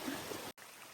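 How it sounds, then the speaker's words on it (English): Rainwater rushing down a hiking trail on the Appalachian Trail near Garfield Ridge, a steady close hiss of flowing water that cuts out for an instant in the middle before carrying on. "the trail is a waterfall down there"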